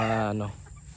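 A brooding hen and rooster clucking close by, one short throaty call that quickly fades into low background noise.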